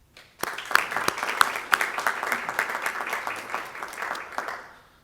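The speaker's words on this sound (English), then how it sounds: "That's an awful lot to be proud of and deserves a round of applause." Audience applause at a civic event in Louisville, a steady crowd of many hands clapping that swells in and holds for several seconds before fading, with no speech over it.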